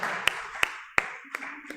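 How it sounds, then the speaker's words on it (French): A few sharp claps or taps spaced irregularly at a church service, five distinct hits over a faint hiss, close by. "Lass uns der Herr einen Applaus geben."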